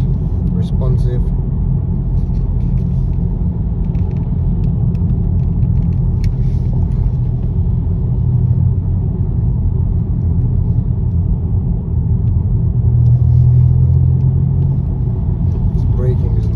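A 2015 BMW 118i three-door's engine pulls steadily through its rev range from inside the car, a continuous low rumble that swells slightly near the end, with someone talking over it.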